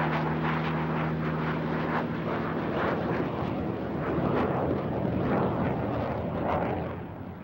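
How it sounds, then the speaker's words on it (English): A Messerschmitt Me 262 jet fighter roars continuously and loudly, a dense broadband engine rush with a steady low drone, fading slightly at the end. "the Luftwaffe's most advanced fighter, the Messerschmitt Model 262"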